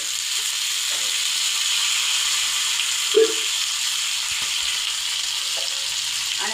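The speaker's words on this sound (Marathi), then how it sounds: "हे भेंड्या आपल्या हातरून झाल्या तर आपण कढईने असं तेल सोडायचं" Stuffed okra frying in oil in a pan, giving a steady, even sizzle that runs throughout with one brief soft clink partway through.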